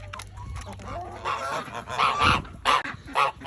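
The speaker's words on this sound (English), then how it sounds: "Chickens everywhere." Domestic fowl calling in a flock, loud honking and clucking bursts in an uneven run, close by, with no talk over them.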